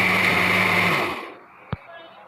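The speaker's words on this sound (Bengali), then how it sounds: "এটা একসাথে করে এক নম্বর ব্লেন্ড করবো ভালো করে পাঁচ মিনিটের মতো ব্লেন্ড করলে হয়ে যাবে" A kitchen blender whirring through a borhani yogurt drink gives a steady high whine, then winds down and stops after about a second, followed by a single soft knock.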